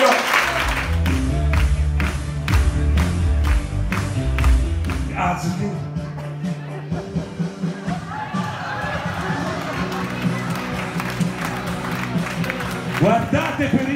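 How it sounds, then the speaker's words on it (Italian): An audience at an Italian comedy show by Vasco and Renato claps in a steady rhythm for about five seconds, then loose crowd noise and voices take over. "L'applauso che lo voglio!"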